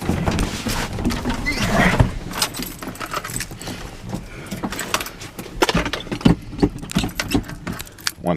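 Jeep keys jangling and rattling in short metallic bursts close by, an irregular series of clinks over a quiet background with faint movement noise.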